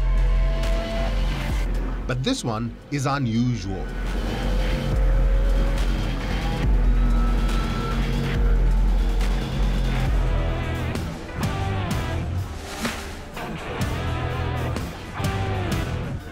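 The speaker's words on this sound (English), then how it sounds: "Look at this supercar zipping around the track." The 3D-printed Czinger 21C hypercar drives around a track, its engine roaring and rising as it passes at speed, loud and continuous, with a narrator's voice talking over it.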